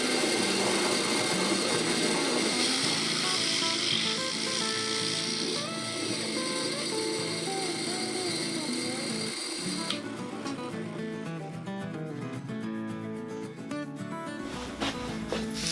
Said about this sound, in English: we're going to drill through this chunk of wood here